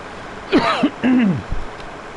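A man clears his throat in a few short, rough voiced bursts, close and loud against a quiet room.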